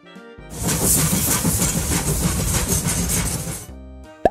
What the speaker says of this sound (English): What sound does a train make?